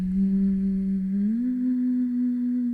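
Close, gentle humming on a low sustained tone whose pitch steps between notes several times, one clear upward shift midway, calm and continuous with no words.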